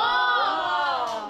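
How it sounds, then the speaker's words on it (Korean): Children at a school cheer and shout together in amazement as a batch of homemade cheese made from warmed milk and vinegar is revealed; the excited crowd of young voices rings out loud and sustained from start to finish. "작품이 모습을 드러내는 순간 신기함에 환호성이 터집니다."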